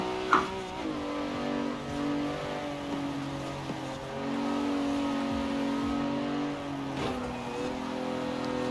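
A Plymouth Fury's engine in Forza Horizon 4 bogs down as the car launches off the line, a steady low drone that rises slowly, with a brief thud near the start.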